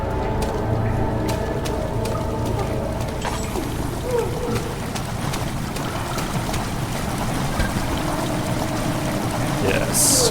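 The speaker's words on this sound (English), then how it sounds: "Redirect sewer water." Steady rushing water from redirected sewer flow in Amnesia: The Dark Descent, a continuous loud pour and churn running throughout with no gaps.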